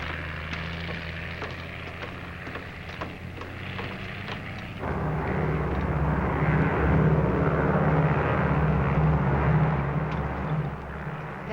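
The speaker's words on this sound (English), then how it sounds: "United Airlines mainliner service flight 608 from Los Angeles, now arriving at gate 2." A United Airlines mainliner airliner arriving at an airport gate, from a 1951 film. It begins as a low hum with faint clicks, then a broad engine roar swells and holds loud to the end.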